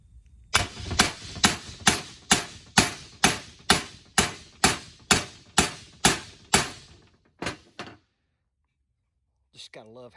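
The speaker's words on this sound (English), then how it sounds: "Just gotta love hammering on a cylinder head, right?" Hammer blows ring out on a junkyard HEMI cylinder head, about a dozen sharp metallic strikes in a steady rhythm, close and loud, followed by a couple of slower final hits and a brief breath.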